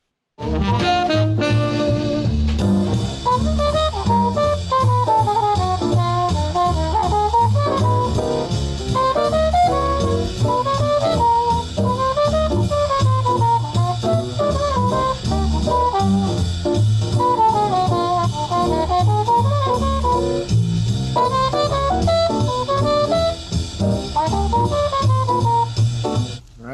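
A small jazz band plays up-tempo, trumpet and saxophone carrying a bright melodic line over bass and drums, loud and continuous.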